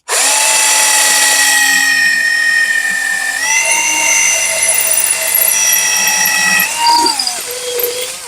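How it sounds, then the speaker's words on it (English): A power drill bores a hole through the center of a piece for a bourbon whiskey smoker, a loud sustained whine that drops in pitch partway through and shifts again near the end as the bit cuts. "I'm going to drill a hole in the center of this"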